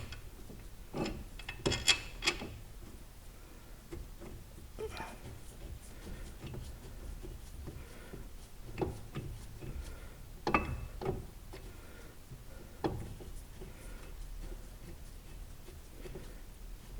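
A bottom brake caliper bolt is fitted on a Mercedes-Benz C280, heard as faint, irregular metallic rubbing, scraping and clicking close by with quiet gaps between, and no speech.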